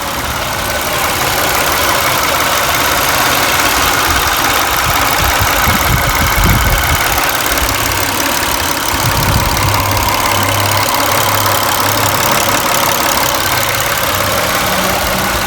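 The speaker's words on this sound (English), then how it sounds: "Before turning it off, let's check the engine again." A car engine idles steadily after five minutes of running with Motor Medic engine flush added to treat low oil pressure, a continuous close mechanical hum with no talk.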